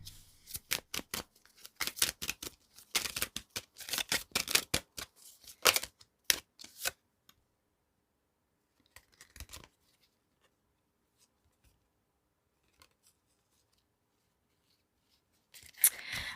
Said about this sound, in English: we're going to pull the Namaste Blessing and Divination cards